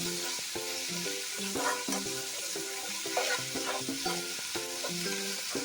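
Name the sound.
chicken liver frying in a pan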